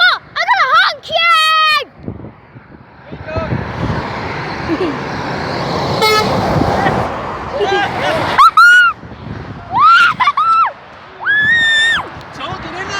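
A truck honks its horn once on a motorway, a brief blast over the steady roar of passing traffic, with excited children's voices shouting and squealing before and after.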